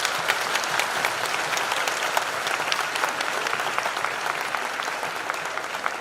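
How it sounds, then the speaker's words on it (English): Sustained applause from a graduation ceremony audience, steady and dense for the whole stretch, with no speech over it. "Let's please give him a loud and thunderous round of applause."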